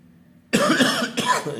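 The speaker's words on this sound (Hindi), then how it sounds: "ये खबर सुनकर तो मुझे खांसी आ गई भाई" A man coughs twice in close succession, loud and near, with a short gap between the two bursts and no talk over them.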